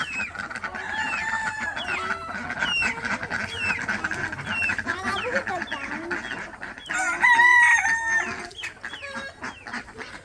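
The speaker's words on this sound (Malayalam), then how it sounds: "താറാവുകൾ ഇവിടെ ഉണ്ട്" A crowded farmyard chorus of clucking chickens and quacking ducks, with a rooster crowing over the steady din, all close and continuous.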